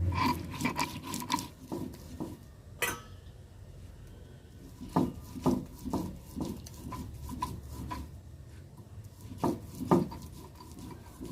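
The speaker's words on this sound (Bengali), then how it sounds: "এবার চালগুলোকে জল থেকে ছেঁকে ভালো করে বেটে নিতে হবে।" Soaked rice ground into batter, rough repeated rubbing and scraping strokes in irregular bursts with occasional knocks, close by and moderately loud, no voices.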